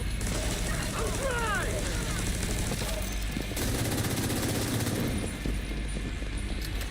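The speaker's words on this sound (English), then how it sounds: "they explode in a gigantic torrent of electricity is one hell of an explosion" Loud electric explosions and bursts of gunfire in The Division 2 crowd a dense, constant battle din, with a player's voice running over the chaos.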